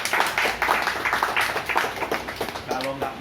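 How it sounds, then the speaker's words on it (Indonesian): Audience clapping during a sales presentation in Medan, a crowd of quick, uneven claps that stay fairly loud with a voice talking over them, then thin out toward the end. "Tepuk tangan dong."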